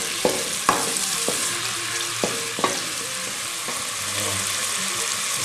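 Octopus and garlic frying in a pan, with a constant hiss of sizzling and several sharp taps and scrapes from stirring spaced through the few seconds.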